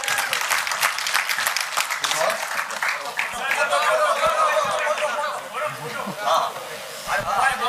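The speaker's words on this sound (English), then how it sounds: "Give them a huge round of applause," An audience at the IIFA Awards 2017 press conference claps, dense applause in the first few seconds that thins out into crowd chatter and voices.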